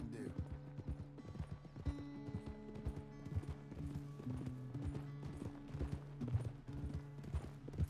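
Horse hooves clip-clop at a steady rhythm in Red Dead Redemption 2, close and continuous over a game music bed, with a voice speaking over them.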